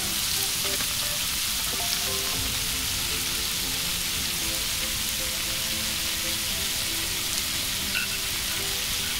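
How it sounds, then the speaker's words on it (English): Steak sizzles and fries in a hot pan, giving a loud, steady crackling hiss that runs continuously with no break and no talk. "I'm putting now the steak. Cooking it for 1 minute each side."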